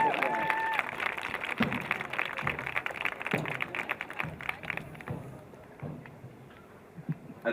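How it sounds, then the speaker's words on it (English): A crowd at a girls' high school lacrosse game, Highland vs. Brighton, claps in a dense burst of applause that thins out after a few seconds, with voices nearby. "Let's give them a big round of applause."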